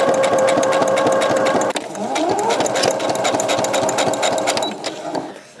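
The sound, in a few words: sewing machine stitching a knitting bag seam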